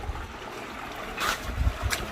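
Water trickles and burbles from desert hot springs in Arizona, a soft, steady flow with a few brighter splashy bursts near the end, heard close and alone.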